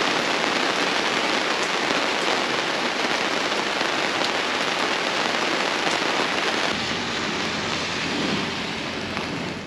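Steady rain falls in Stavanger, a dense, loud, continuous hiss of drops hitting surfaces that eases slightly toward the end, with no voices.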